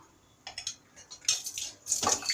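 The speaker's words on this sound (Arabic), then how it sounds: "نزود بقى ميه" Water poured into a cooking pot of cauliflower in a home kitchen, heard as a few short splashing bursts with a louder, fuller pour near the end, close by and with no talk.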